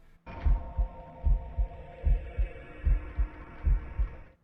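A deep, disturbing heartbeat from a fleshy Govi soul container in a video game, pulsing in steady double thumps over a low droning hum, close and alone.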